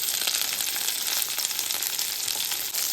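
Green chillies and onion fry in a hot pan, giving a dense, continuous close sizzle with faint stirring, loud and steady throughout, no speech.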